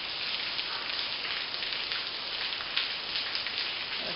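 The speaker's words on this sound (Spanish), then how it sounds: "Uy, no deja de llover." Steady rain falls continuously, a dense even hiss of drops hitting surfaces close by, with no voices.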